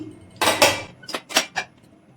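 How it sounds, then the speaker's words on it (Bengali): Metal pressure cooker lid being handled while a cake bakes inside, a few sharp close clanks and rattles of metal in quick succession, with no talk. "আমি প্রেশার কুকারের ঢাকনাটা একটু খুলে নিয়েছি"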